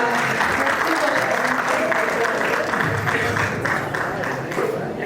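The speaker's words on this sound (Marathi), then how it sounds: "जोरदार टाळ्या" Sustained applause fills an award ceremony as a Maharashtra Police officer is called up to receive an award, steady dense clapping running throughout with a voice speaking over it.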